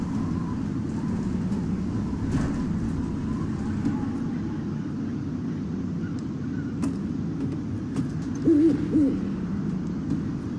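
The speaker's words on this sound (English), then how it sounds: "Oh, there's an owl up here." Owl hooting in the video game Life Is Strange, a couple of soft, low hoots near the end over a steady ambient rumble.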